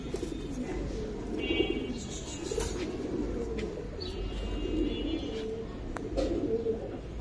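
High flyer and Giribaz pigeons coo in soft, rolling low notes, mixed with a few brief higher chirps, moderately faint and close, over a steady background murmur.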